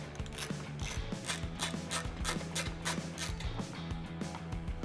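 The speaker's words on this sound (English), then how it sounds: "We're gonna use an 8mm socket to take those screws out." Rapid ratcheting clicks from an 8mm socket ratchet backing out screws on a Jeep Wrangler JL, a steady close-up mechanical clatter running throughout with no talking.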